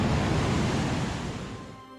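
Rushing water roaring through the Partnachklamm gorge in Germany, a loud, steady broadband wash that fades slightly toward the end, with no talk.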